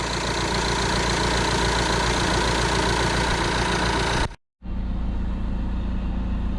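A steady, rumbling Audi A4 2.0 TDI diesel engine idles continuously at normal working temperature, cutting out abruptly for a brief moment before resuming its even drone.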